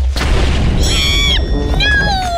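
A TNT cannon in a Minecraft-style video game firing with a deep, loud boom that swells and lingers, accompanied by excited player voices.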